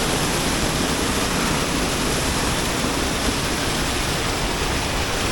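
Waterfalls in Istria cascade one after another into small pools, giving a steady, dense roar of rushing water that stays loud and even throughout, with no voices.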